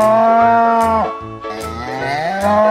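A cow moos in long, low, drawn-out calls, loud and close, with a brief dip between calls and no talking.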